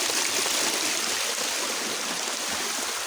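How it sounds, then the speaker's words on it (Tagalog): A small waterfall rushes and splashes nearby outdoors, a continuous broadband roar of falling water with no break and no voices. "Yan yun naman, oh, may maliit na talon."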